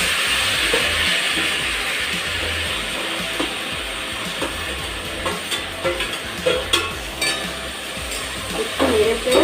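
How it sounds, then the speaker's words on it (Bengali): Ash gourd tipped into hot tempering oil, raising a loud, sustained sizzle with clinks and scrapes of utensils against the pan scattered through it. "ফোড়নের গন্ধটা বেরিয়ে গেছে, এবার আমি চাল কুমড়োটা দিয়ে দেবো।"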